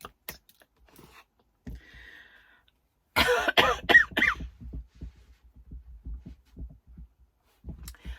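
A few short coughs close by, followed by quieter scattered clicks and small sounds, with near silence in between.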